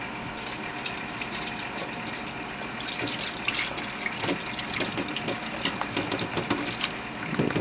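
Water draining out of diced tomatoes through a strainer, a steady close trickle and splash with rattling clicks, continuous and moderately loud.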